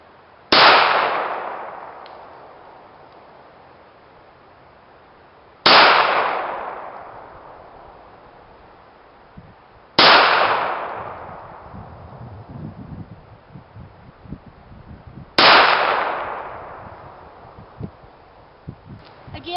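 Four single-action handgun shots ring out at an indoor shooting range, each a sharp loud crack with a long ringing decay, spaced several seconds apart, with faint shuffling between them.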